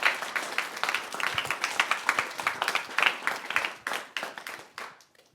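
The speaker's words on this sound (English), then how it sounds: "Can we give a round of applause, please, for Autumn?" Applause from a small audience for speaker Autumn Rose Williams, individual claps clearly distinct and close, holding steady for a few seconds before tapering off to a final few scattered claps.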